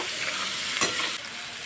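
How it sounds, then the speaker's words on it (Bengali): Salted vegetables for pasta frying in a pan, a steady nearby sizzle with a single sharp spatula scrape near the middle and no talking. "লবণটা দিয়েও আরও কিছুক্ষণ নাড়াচাড়া করে একটু ভাজা ভাজা করে নেব"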